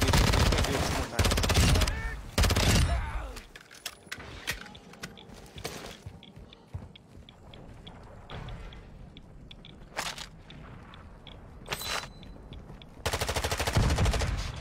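Gunfire in the video game Warzone 2.0, rapid automatic bursts near the start and end with scattered shots and impacts between, loud and close, over game noise.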